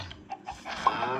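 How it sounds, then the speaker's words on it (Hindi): Minecraft chicken clucking in survival play, a few short soft clucks spaced across the moment alongside faint game sounds and a low voice in the background. "मुर्गी"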